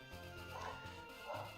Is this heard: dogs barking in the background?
yes